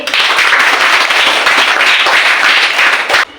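A crowd claps and applauds after a song about the environment, a loud, dense burst of clapping that holds steady and then stops sharply.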